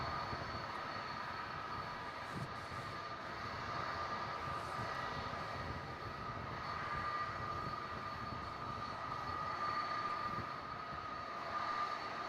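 A jet airliner takes off at Melbourne Airport, a steady distant engine roar holding level for the whole stretch with no talk over it.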